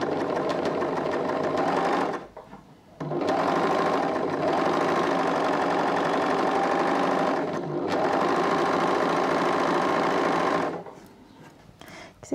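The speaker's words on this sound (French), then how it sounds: "il y a le chant de la surjeteuse" An overlocker serger sewing machine runs in loud, steady stitching bursts, stopping briefly around the second and eighth seconds and halting near the end, with no talking.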